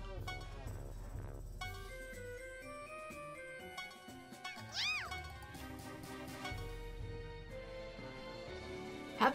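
Meowing from the Cat Saber, a monster-type cat unit in the video game Disgaea 4, heard as a few faint cat cries mixed into game music and chimes.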